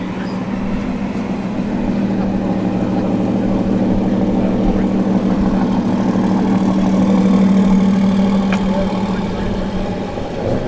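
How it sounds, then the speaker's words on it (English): Aston Martin DBS Superleggera engine at a supercar show, a steady deep rumble at low revs while reversing, close and loud, swelling slightly near the end before easing off. "DBS Superleggera. Just just about to go. It's making a lovely noise just backing out."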